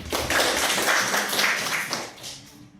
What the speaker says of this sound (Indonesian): bagus. Tepuk tangan untuk Denis.